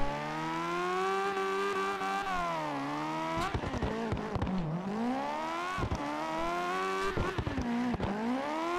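Wellington S20 drifting in the CarX Drift Racing video game, a loud high-revving engine note that rises and falls continuously through transitions, with sharp gear-shift dips and bursts of tire squeal, no talking.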